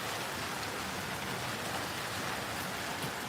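Steady rain falls outdoors in a wet yard, a dense, even hiss of drops spread across the whole stretch with no voices or other sounds.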